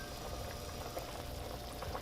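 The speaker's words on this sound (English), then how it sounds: "Our stew is at a boil." Beef bourguignon stew bubbles at a full boil in a pot, a continuous low rumbling burble with soft popping, heard close and alone.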